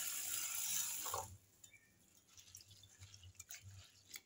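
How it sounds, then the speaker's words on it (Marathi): Urad dal with a spoonful of fenugreek seeds is rinsed in water, beginning with about a second of steady splashing and pouring, then quieter wet drips, clicks and soft rattling from the grains. "आता आपण ती पण डाळ पण धुवून घेऊ."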